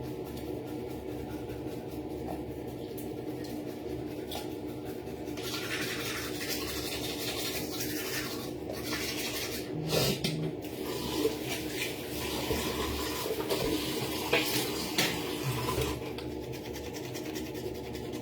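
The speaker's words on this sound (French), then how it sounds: "Ça, c'est pour brosser la langue." Toothbrush scrubbing the tongue, a steady close wet bristly scratching that continues throughout with faint running water and sink sounds behind it.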